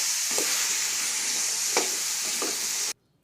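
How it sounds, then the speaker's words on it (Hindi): Spices frying in oil for a potato and fenugreek curry, a dense steady sizzle with a few soft stirring scrapes, cutting off abruptly near the end. "इन सब मसालों को हम अच्छी तरह से मिक्स कर लेंगे। 1-2 मिनट हम इसको भूनेंगे अच्छी तरह से।"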